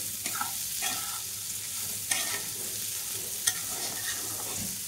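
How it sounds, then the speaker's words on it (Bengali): Figs frying with sugar in a pan under a steady close sizzle, stirred with a few distinct scraping strokes and light clicks of the spatula, with no speech. "চিনিটা যতক্ষণ না গলছে ততক্ষণ এইভাবেই ভাজতে হবে।"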